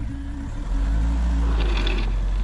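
A Mahindra Scorpio in four-wheel-drive low, first gear, revving as it sits stuck in a muddy rice field; the engine drone rises and swells loudly and close.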